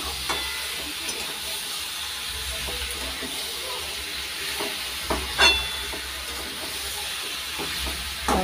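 Pieces of meat are stirred in a hot pan for a quick shortcut curry, giving a steady sizzling hiss broken by occasional scrapes and knocks of the spoon against the pan.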